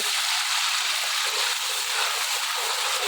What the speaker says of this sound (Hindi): तो इसमें अब हम डालेंगे, थोड़ा पानी डालेंगे।